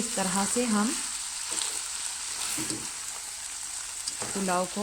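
Rice and dal are stirred together in a pot for pulao, giving a soft, scraping sizzle that continues under a woman's speech at the start and end.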